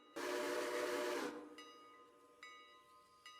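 A locomotive in the Railroader train simulation game gives a loud steam whistle blast lasting over a second, followed by a quieter rumbling idle with three short high tonal chirps or bell-like pings.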